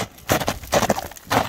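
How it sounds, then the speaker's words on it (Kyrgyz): Hooves of a large horse clip-clop in quick, uneven clusters on firm ground, close and fairly loud, with short gaps between the bursts of steps. "Акжал чоң ат экен"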